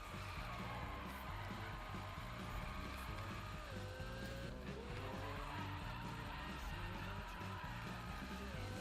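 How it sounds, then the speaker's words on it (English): A car drifts with long tire squeals over a roaring engine in the Need for Speed 2015 racing game, a continuous skid that stays loud and close throughout. "Textbook drift there."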